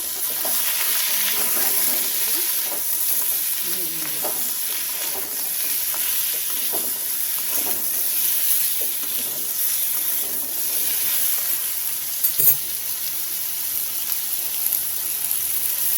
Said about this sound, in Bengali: এবার আলুগুলোকে সুন্দর ভেজে নেব